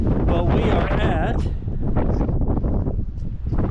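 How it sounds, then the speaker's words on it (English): Steady wind buffets the microphone on a mountain top at Chimney Rock State Park, North Carolina, a loud broadband rumble that continues throughout, with a voice talking over it. "Quite windy today"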